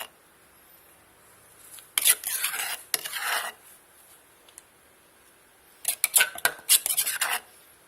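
Shrimp is dry-roasted in a pot with no added water while making shrimp laab in a rural home kitchen. Two bursts of rough scraping and stirring, each lasting about a second or more, are separated by quiet pauses, with no talking.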